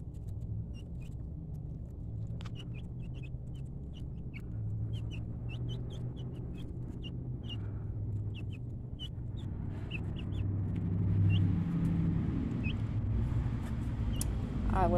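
A hen named Henrietta clucks and chatters among little chicks outdoors, her short calls and faint peeps repeating over a constant low engine rumble that swells toward the end.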